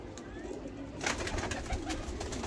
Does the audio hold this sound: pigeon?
yes